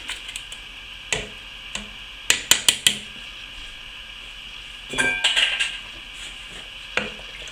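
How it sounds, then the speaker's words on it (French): A utensil stirs braised beef with porcini mushrooms in a cocotte, giving sparse clinks and knocks against the pot, including a quick run of four sharp taps and a brief scraping flurry, with no voices. "Maintenant, je vais remuer un petit peu"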